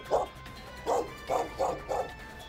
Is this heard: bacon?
no